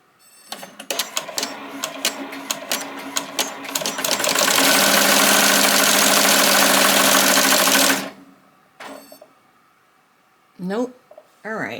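A Melco EMT-16X embroidery machine stitches onto a hoodie, starting with rapid clattering needle strokes that merge into a loud, steady whirring run for several seconds, then stops abruptly before a few short mechanical bursts.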